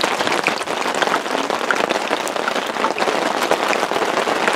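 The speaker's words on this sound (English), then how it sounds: "It's raining. It wasn't supposed to rain yet." Steady rain falls at a campsite in the Rocky Mountains, a loud, dense hiss of drops pattering on nearby surfaces that holds constant with no voices.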